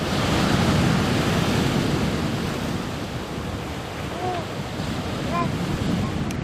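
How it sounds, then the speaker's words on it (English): Steady broadband roar of surf pounding a rocky glacial moraine shore on the Gulf of Alaska, with wind rumble throughout and a few faint bird calls in the background. "right up on the Gulf of Alaska where the waves pound against the moraine"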